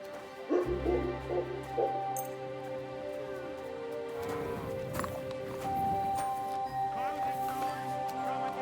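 Dog barking in Kingdom Come Deliverance II, a short burst of several yips near the start, followed by game ambience, hoofbeats and voices talking.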